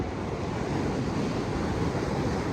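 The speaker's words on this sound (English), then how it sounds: "welcome to the ocean." Ocean waves and wind at the shore, a loud, steady broadband roar of surf with buffeting wind noise on the microphone and no voices.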